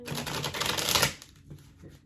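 Tarot cards riffled and shuffled by hand give a rapid, dense papery clatter for about a second, then fade into a few softer, scattered shuffles.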